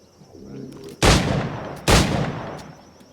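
Two loud, sharp firearm shots in Assassin's Creed IV Black Flag, about a second apart, each with a heavy boom and lingering tail over quiet ambient background.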